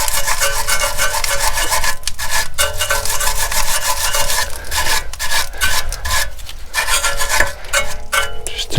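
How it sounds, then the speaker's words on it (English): A wire brush scrubs hard and fast at corroded metal on the steering and CV joint area of a VW Transporter, a loud, close, continuous rasping with short breaks. "Use a little bit of a wire brush action."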